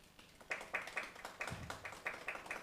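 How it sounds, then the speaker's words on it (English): An audience at a climate change symposium at a university campus in Uganda gives quiet, scattered applause. Its distinct claps fall in a loose, even rhythm and sound faint and distant. "I would beg we applaud them in their absentia"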